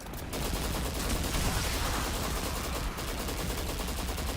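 Scorch Cannon weapon firing in the sci-fi shooter game, a dense, loud burst of rapid gunfire-like blasts sustained throughout, with no talking.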